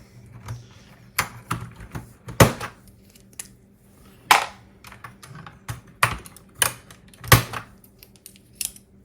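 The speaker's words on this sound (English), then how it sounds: "time to get this keyboard cleaned up" Keys on a grimy Atari 1040 STe computer keyboard clatter and rattle during cleaning, a series of irregular sharp clicks and plastic knocks in uneven bursts, close and fairly loud, with no talking.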